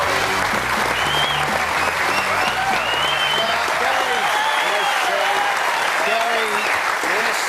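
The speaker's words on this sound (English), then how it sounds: "I think we should give them a massive round of applause once again" A television studio audience at the AFL Footy Show gives sustained, loud applause, with dense clapping and some cheering that carries through without a break.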